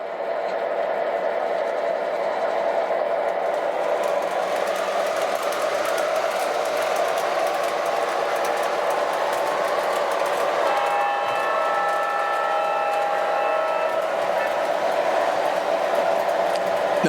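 MTH model locomotives run on a single layout loop in yard mode, giving a steady, continuous rolling rumble and whir with faint hissing tones partway through and no talking.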